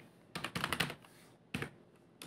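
Clattering keystrokes on a computer keyboard as HTML heading tags are typed, a quick cluster of taps, a pause, then a few more clicks nearby.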